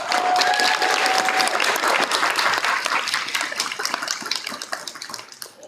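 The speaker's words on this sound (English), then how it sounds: "you can clap for your child when I call their name" Parents applaud as a child is called up at a fifth grade moving up ceremony, a loud, dense burst of clapping from a crowd that holds steady and then thins out toward the end.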